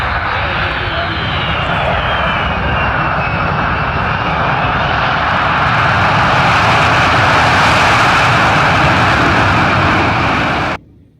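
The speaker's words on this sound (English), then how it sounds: "This U.S. Air Force C-17 demonstrates its capabilities by making a rapid stop and then reversing using its reverse" A U.S. Air Force C-17 jet roars loudly and steadily in reverse thrust during a rapid stop, a broad continuous engine rush that holds for about eleven seconds before cutting off abruptly.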